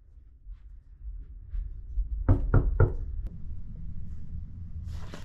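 Three quick firm knocks land on a cruise ship cabin door aboard Celebrity Edge, close and loud against a quiet room.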